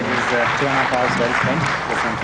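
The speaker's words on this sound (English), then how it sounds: "big round of applause." Audience at a Union Budget analysis event gives a big round of applause, a dense steady clapping from the crowd with someone speaking over it.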